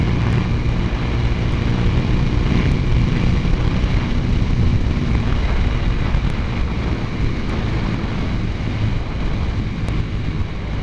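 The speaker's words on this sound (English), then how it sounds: "this is the first ride, the first flight of the SV650" A Suzuki SV650 motorcycle fitted with Power 2C tires is out on its first ride, its engine a constant, loud rumble buried in heavy wind buffeting from start to finish.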